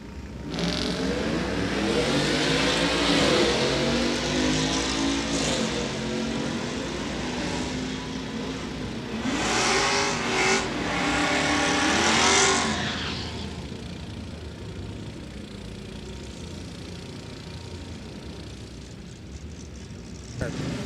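A Ford F-150 and a 2014 Camaro at a drag racing event, engines revving and accelerating with surging waves of roar, mixed under an announcer talking over a public address system throughout.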